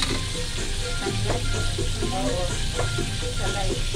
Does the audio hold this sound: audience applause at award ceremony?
no